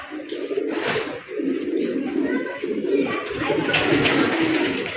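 A large Rajgolla pigeon gives deep, repeated cooing calls up close, continuous through the stretch with faint rustling around it.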